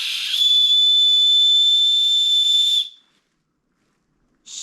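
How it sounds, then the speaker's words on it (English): A whistle attached to a thrift store backpack is blown in one loud, steady, piercing tone lasting over two seconds, then stops abruptly, with a brief burst of sound returning at the very end. "Let's see if the whistle works."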